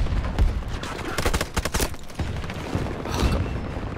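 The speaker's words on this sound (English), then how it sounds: "the tank's got me. It's gonna shoot again and kill me again." Battlefield 2042 combat: a tank's cannon fire and explosions mixed with a dense, irregular crackle of gunfire and booms, loud and close, with several sharp bursts clustered in the middle of a busy battle din.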